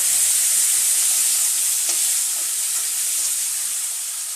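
Cumin seeds and cut potatoes sizzle loudly in leftover oil from frying fish, a steady bright hiss with a small clink partway through, easing off slightly toward the end.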